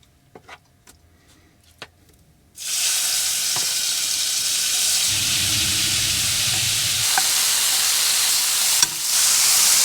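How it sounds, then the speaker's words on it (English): Soy-sauce-coated shrimp hit hot oil in a pan and burst into a loud, steady sizzle after a few quiet clicks, frying continuously with occasional pops. "I'll just wait for this oil to heat up, cook up these shrimp."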